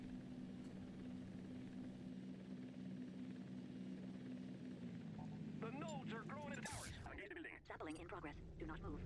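Phoenix aircraft hover in the Hostile Waters: Antaeus Rising video game, a steady droning rotor hum that fills the background while someone talks over it.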